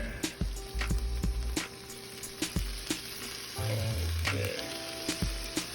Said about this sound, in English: I do want to cook out some of the spiciness and get some of those good jalapeno flavors out in the oil